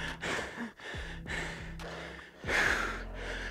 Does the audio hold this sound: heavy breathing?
yes